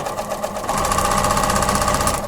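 Sewing machine stitching a 3/8-inch seam on 2.5-inch quilt binding strips, a fast steady whirring chatter of the needle running continuously at close range without talk.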